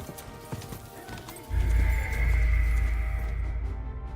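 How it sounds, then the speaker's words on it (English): Galloping horse in Kingdom Come: Deliverance 2, a steady rapid hoofbeat rhythm with a whinny, rising loud and close from the second half onward with no talk over it. "hurry up, horse"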